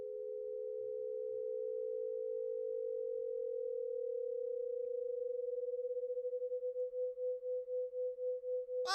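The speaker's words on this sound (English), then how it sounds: "The pulsing effect you are hearing is called beating, and it happens as the two tones with close frequencies interact with each other." Two pure tones close in pitch play together as a binaural beats demonstration, at first a steady, unbroken hum that gradually turns into a slow, regular pulsing throb toward the end.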